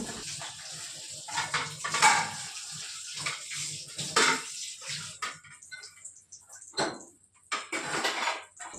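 Dishes are washed under running water at a home sink, with irregular splashing bursts and clinks rising and falling over a continuous tap flow.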